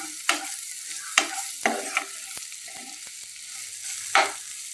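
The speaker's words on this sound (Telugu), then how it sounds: "ఈ ఉల్లిపాయలు ఫ్రై అయిపోయింది." Onions sizzle steadily in a hot pan while a utensil stirs and scrapes them in several distinct strokes over the constant frying hiss, close and clear.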